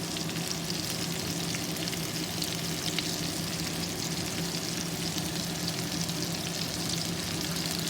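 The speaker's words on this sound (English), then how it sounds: "So I'm just frying these up right now." Chicken pieces seasoned with black pepper, cilantro, paprika and salt fry in a pan for burritos, giving a steady, close, crackling sizzle throughout with no speech.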